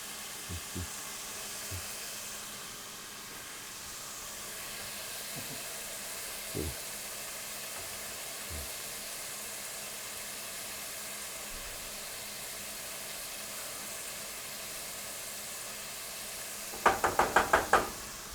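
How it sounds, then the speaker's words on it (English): Food browning in a pan on a home stove, a steady faint sizzle running throughout, broken by a few soft knocks and a short clatter of utensils near the end. "We'll let that brown up a little bit."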